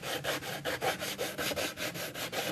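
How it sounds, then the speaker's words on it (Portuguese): A wooden slatted planter sanded by hand with coarse 60-grit sandpaper, producing brisk, even back-and-forth rasping strokes in a steady rhythm, close up and alone without any voices. "Por isso que eu uso a lixa 60, que é bem grossa."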